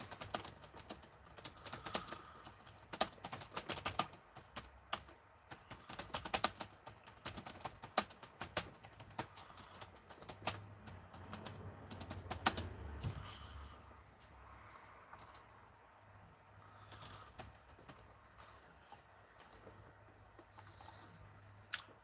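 Computer keyboard typing runs through a long stretch: rapid bursts of soft key clicks and taps come in uneven clusters with short pauses, fairly close and moderately quiet, with faint background murmur.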